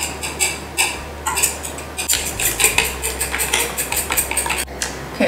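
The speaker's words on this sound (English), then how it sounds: "let's beat this egg with a fork" A fork beating an egg in a bowl, with rapid continuous clinking and tapping against the sides, loud and close, broken by a couple of brief pauses and no voices.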